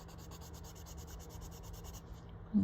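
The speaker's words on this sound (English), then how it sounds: "So I am burnishing right now." Soft colored pencil burnishing on paper while drawing a spiral fern pattern: a faint, steady, continuous rubbing with no talking.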